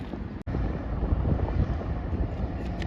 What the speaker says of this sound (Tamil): காற்று நல்ல காற்று அடிக்குது